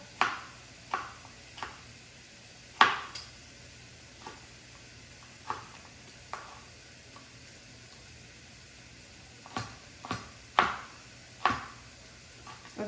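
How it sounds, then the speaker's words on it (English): A knife slicing food on a cutting board while making chicken scampi with pasta, giving a dozen or so sharp, irregular chops against a faint kitchen background hiss. "I'm gonna keep slicing these up."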